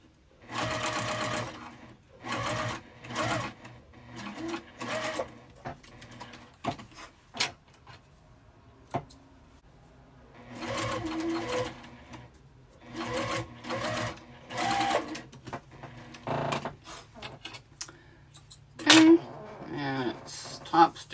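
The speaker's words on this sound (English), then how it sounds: "And I'm going to top stitch on the vinyl." A sewing machine top stitches through vinyl in short bursts of rapid mechanical whirring, separated by pauses, with someone speaking quietly between runs.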